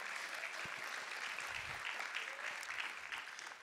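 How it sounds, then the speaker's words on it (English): Faint, distant audience clapping in a church or lecture hall setting, a soft continuous patter of many hands that tapers off slightly toward the end. "Yeah, you can clap for that."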